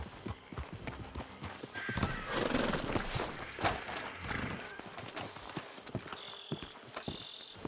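Horse hooves clip-clop in Red Dead Redemption 2, irregular hoof knocks with a snort or whinny partway through, moderately near under game ambience and a soft tonal background, with voices talking at times.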